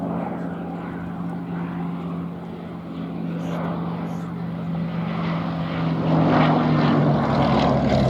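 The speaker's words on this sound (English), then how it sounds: "Powered by a Bristol Mercury air-cooled radial engine" A Westland Lysander, the Lizzie, with its Bristol Mercury air-cooled radial engine drones steadily at an airshow, its propeller hum building slightly louder toward the end.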